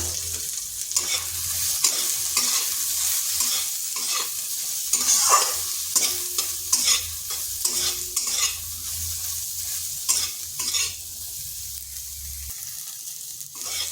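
Soybean chunks fry in a wok with turmeric and salt, giving a continuous bright sizzle broken by frequent spatula scrapes and stirring knocks, close and alone without talk.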